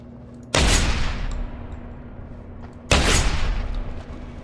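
Two loud shotgun blasts fired at a cardboard box in Deus Ex: Human Revolution, sharp close booms about two seconds apart, each trailing off in a short decay over a low hum.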